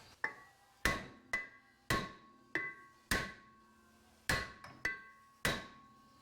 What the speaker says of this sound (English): Then we'll hit on the rotor on the outside here.